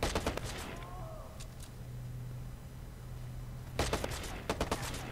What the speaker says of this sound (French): J'entends des tirs là, mais je vois pas qui me tire dessus.